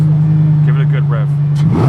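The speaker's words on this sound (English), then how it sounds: "Give it a good rev." A Lamborghini being started and revved at an exotic car dealership: a loud, close engine drone holds steady under people talking.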